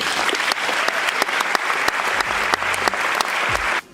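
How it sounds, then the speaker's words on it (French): Warm applause from a literary-event audience welcoming two guest speakers, dense steady clapping with a few sharper individual claps, filling the space and stopping abruptly near the end. "Je vous demande d'applaudir très chaleureusement Jean Ziegler et Régis Debray"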